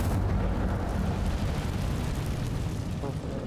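The Incendio fire spell in Hogwarts Legacy erupts as a loud, continuous fiery roar and rumble that holds steady for several seconds.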